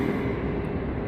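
A train pulls into a station in Mallorca with a steady, close, broadband rumble of wheels and carriages that holds constant throughout, without any voices.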